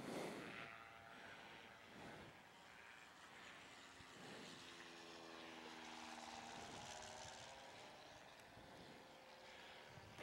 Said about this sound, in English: Plane just flew over.